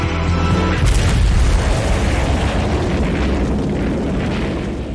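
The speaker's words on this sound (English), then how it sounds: "It was still a pretty good explosion." Car crash explosion from the horror film Phantasm: a sudden loud boom about a second in, followed by a long roaring burst of fire and rumble that slowly fades.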